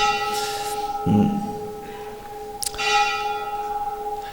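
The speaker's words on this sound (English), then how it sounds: "The bell rings." A bell rings in a few separate strikes, each with a bright ringing tone and a sustained hum beneath, heard fairly close with no talk.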